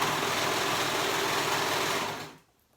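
A serger sews through fabric in a steady, fast, whirring stitch close by, then winds down and stops.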